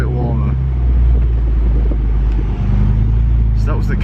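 A K20-swapped Honda Civic engine rumbling and revving in a garage setting, held near its 4,000 rpm cut, with people talking over the engine noise.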